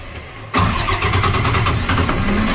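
A small fishing boat's engine that had broken down cranks and catches, jumping from quiet into a steady loud rumbling idle right up close.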